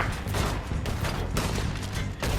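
Rapid gunfire bursts in a video game, dense and loud, with several sharp shots cracking in quick succession over constant action noise.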